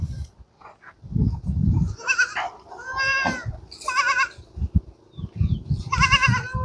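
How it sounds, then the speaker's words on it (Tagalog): Several goats bleat in short, wavering cries spread across the moment, close and fairly clear, with soft rustling and low thumps between the calls. "ating mga kambing."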